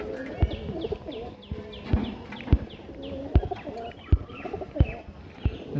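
A male Madras pigeon among other pigeons coos in repeated low rolling phrases, with sharp knocks and taps punctuating at irregular intervals and faint high chirps over a busy close-up background.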